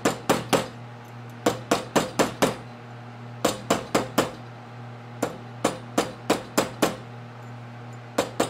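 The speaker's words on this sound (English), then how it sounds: "And if they move a bunch like that, you're going to need to hammer it down." A silver ring struck with a hammer on a steel mandrel, sharp metallic taps landing in quick bursts of three to five strikes separated by short pauses, close and clear over a low steady hum.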